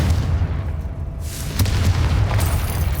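A Confringo fire spell explodes in Hogwarts Legacy, a loud booming blast with a rumbling low tail, followed by a second burst a moment later, with no talk over it.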